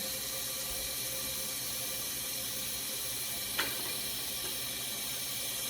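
Cold water gushes steadily from a kitchen tap into a pot or sink, a constant close hiss with one brief clink midway.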